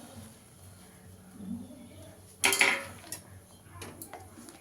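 Chushi pitha, small hand-rolled rice dumplings, tipped into a kadai, giving a brief clattering burst of metal-on-metal scraping midway, with quieter utensil clinks afterward in a fairly quiet home kitchen.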